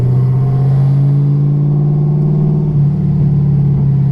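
A Chevrolet Camaro ZL1 coasting off throttle on the street, its V8 holding a steady deep rumble that stays loud and close from inside the car, with no talk over it.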